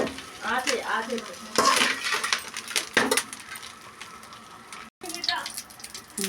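Moringa and curry leaves frying in oil over a low flame, a soft continuous sizzle with scraping stirring strokes and clinks from the pan, close by, with a brief drop-out near the end.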